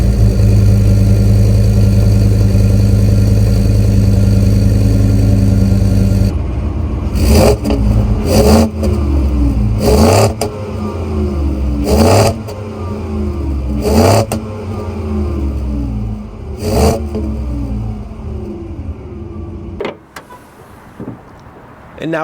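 A Ford F-150 pickup with the 5.0-liter V8 settles at a steady idle, then rises through several sharp revs, each swelling and falling back, close and loud, with a brief quieter tail at the end.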